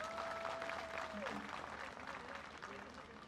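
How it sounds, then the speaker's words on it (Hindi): Applause at a Mumbai event where Javed Akhtar inaugurates a Mirza Ghalib mural: a dense, steady wash of many hands clapping, fairly loud throughout, with a brief tonal whistle early on. "एक बार फिर उनके लिए बहुत जोरदार तालियां"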